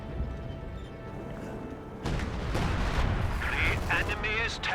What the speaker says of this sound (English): All he has is these 120mm mortars.